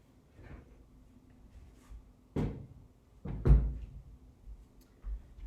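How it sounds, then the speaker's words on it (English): A chair is grabbed and shifted during an indoor exercise session, producing a few separate wooden clunks and thuds in an otherwise quiet room. "Then you can grab your chair."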